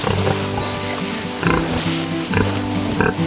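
Several pigs, sows in heat, grunt close by in a farm pen, with short bursts of louder grunting around the middle and near the end over a steady low background.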